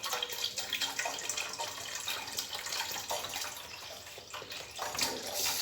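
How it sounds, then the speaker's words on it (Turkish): A full litre of milk pouring into a bowl, a continuous splashing liquid rush that stays fairly steady from start to finish. "Bir litre sütü tamamen koyuyoruz içine."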